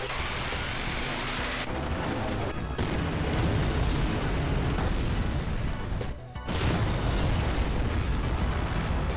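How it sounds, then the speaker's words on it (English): Meltdown spell striking Bahamut in Final Fantasy VIII, a loud sustained roaring blast with crashing rumble that cuts out briefly twice and then surges back, no talk. "Here's what a meltdown to Bahamut with some Mag plus 40 does"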